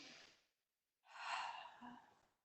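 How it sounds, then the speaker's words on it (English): A person takes a big breath in during a flowing vinyasa yoga practice. A brief exhale comes first, then a long, close, airy inhale with no talk. "Big breath in."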